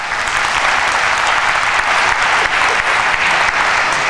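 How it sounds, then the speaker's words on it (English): Steady, loud applause from a debate audience in Jerusalem for a panel of election candidates, continuous clapping from a large crowd with no talking over it. "Please join me in giving them a warm round of applause."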